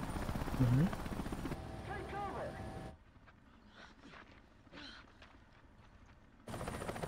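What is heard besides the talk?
helicopter in video game Resident Evil 5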